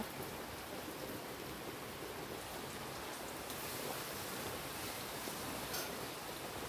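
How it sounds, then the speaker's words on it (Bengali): Steady rain pours down in a constant, even hiss with no breaks or voices. "সকাল থেকে ভারী বৃষ্টি হচ্ছে, প্রচণ্ড।"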